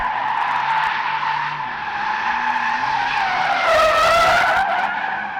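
Loud, sustained tire squeal from a drifting 2021 Porsche Taycan RWD, wavering in pitch and swelling near the end, with engine drone underneath.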